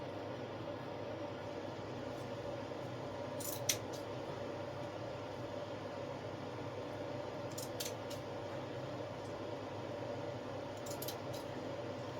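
Scissors snip through artificial flower stems in a few short, faint, crisp clicks spread apart, over a quiet steady hiss with no talking.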